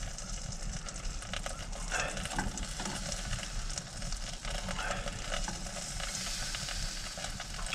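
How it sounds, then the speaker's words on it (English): Bacon frying in a pan in a teepee, a steady crackling sizzle with scattered pops running throughout at close range, no voices. "got some nice bacon here"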